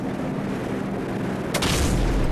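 In Call of Duty 4: Modern Warfare, an artillery shell strikes and explodes with a sudden sharp crack that rolls into a deep, sustained boom, set against steady game background noise.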